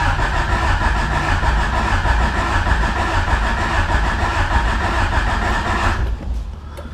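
Car engine cranking and running hard with the throttle held open, a steady loud roar for about six seconds before it drops away to quiet.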